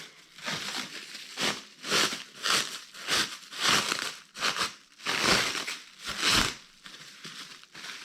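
Plastic or paper wrapping crinkled and torn off a package of 1990s car parts for a 1.8T engine build, in repeated loud bursts of crumpling and tearing lasting the whole stretch, with no talk.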